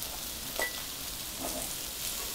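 Yakisoba noodles and vegetables fry in a pan with a soft, continuous sizzle, quiet and even, with a few faint clinks and stirring scrapes rising briefly above the hiss.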